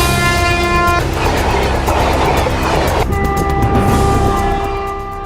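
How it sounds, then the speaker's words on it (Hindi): A special express train rumbles through Sonpur railway station in a loud, continuous roar of wheels and carriages passing close by, with a rhythmic clatter and a steady tonal whine, fading slightly at the end. "सहरसा से नई दिल्ली के लिए खुली क्लोन स्पेशल ट्रेन धड़धड़ाती हुई गुजर रही है।"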